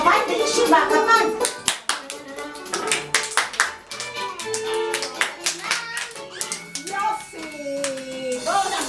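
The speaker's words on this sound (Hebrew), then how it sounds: "כפיים בישיבה, כפיים." Children clapping their hands while seated in a kindergarten circle, a run of sharp, quick claps in uneven bursts, close and fairly loud, with an adult singing and talking over them.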